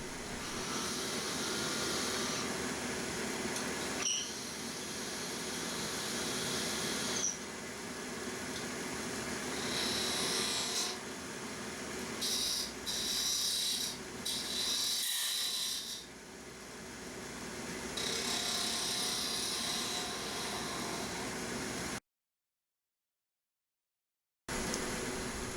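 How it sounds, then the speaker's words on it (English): A 3/8 gouge bores into a spinning piece of walnut on a wood lathe, producing a steady rough rubbing and rasping hiss under a constant motor hum, with shifts in tone as the tool pushes in and one brief silent gap near the end. "I just push a 3/8 gouge like a drill into the wood."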